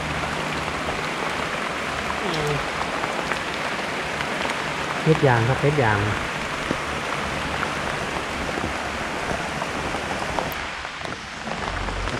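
Rain falls steadily on a forest of eucalyptus, a constant hiss of drops on leaves and ground, with someone speaking briefly partway through.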